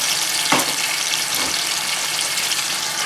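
Continuous loud, crackling sizzle of ginger garlic paste frying in hot oil for chicken, steady and close throughout with a couple of faint stirring knocks.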